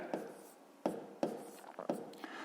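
Pen or pencil writing by hand on paper during a fifth-grade maths exercise, a few quiet scratchy strokes with soft taps between them, close and faint.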